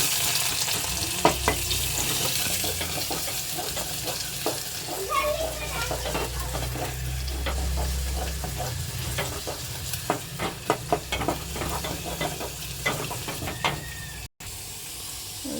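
Chopped onions and green chilies frying in a pan for a mutton and potato dish, a steady broadband sizzle running throughout with scattered sharp crackles and pops, close and moderately loud.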